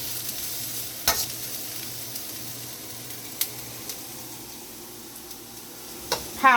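Olive oil sizzles faintly and steadily in a wok, with a few sharp clicks and taps of a utensil against the pan along the way.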